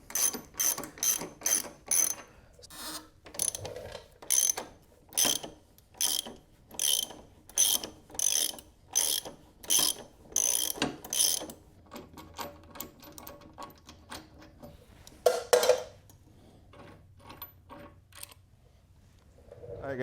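A hand ratchet works on the left rear shock of a 2024 Harley-Davidson Road Glide during removal, giving close, rhythmic bursts of rapid clicking strokes that slow and break off near the end.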